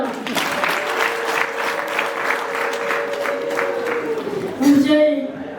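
A crowd at a concert gives a round of applause with a thick patter of claps, while a sustained voice rings over it and a brief louder swell comes near the end.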